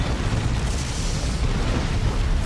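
Orbital bombardment strike landing on retreating Orks in the Dawn of War 2 strategy game, a sustained loud rumbling blast with dense low boom and broadband roar filling the whole stretch, no voices.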